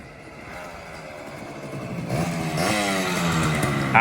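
An old Honda Scoopy scooter's engine runs close by, a steady buzzing idle that rises into a revving climb and holds at a higher, louder pitch.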